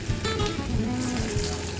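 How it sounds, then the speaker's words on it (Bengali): Small young hilsa pieces frying slowly over medium heat in a little oil in a pan, a steady close sizzle with soft crackling throughout, no voices. "অল্প আছে আস্তে আস্তে করে আমি ভেজে নিচ্ছি"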